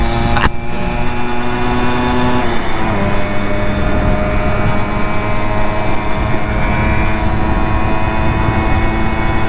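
A Simson moped engine drones loudly as it accelerates on the autobahn, a close, steady buzzing roar whose pitch climbs gradually while wind rushes past, with no talking.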